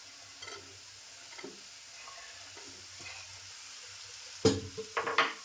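Bell peppers hit a hot pan for a dry besan-coated capsicum sabzi and sizzle faintly while a spoon stirs them in soft, scattered scrapes, ending in a few louder clattering stirs near the close.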